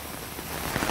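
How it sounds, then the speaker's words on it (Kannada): Heavy rain falls steadily in Bengaluru, a dense, close hiss of drops striking the ground for about a second with no talking. "5 ಗಂಟೆಯಿಂದ ಶುರುವಾದಂತಹ ಮಳೆ ನಿರಂತರವಾಗಿ ಅನೇಕ ಭಾಗಗಳಲ್ಲಿ ಈ ಕ್ಷಣದವರೆಗೂ ಕೂಡ ಸುರಿತಾನೇ ಇದೆ"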